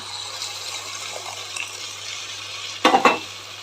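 Tamarind juice stirred into vangi bath, a rice dish with brinjal, cooking in a pan: a soft, steady sizzle with quiet scraping, then a short burst of louder clattering stirs near the end.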